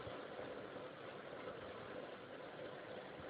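A sewing machine stitches piping onto a kurta collar, its motor giving a steady, continuous whir with no pauses and no talking.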